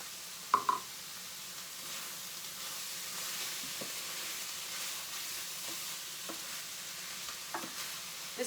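Stuffed pepper filling of meat and cooked rice sizzles and bubbles steadily in a hot pan, with a few sharp pops rising above the constant frying hiss.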